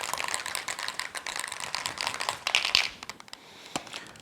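A K&N reusable air filter shaken hard, producing a dense rapid rattling and crinkling that runs for a few seconds, then tapers to scattered taps, close and fairly loud.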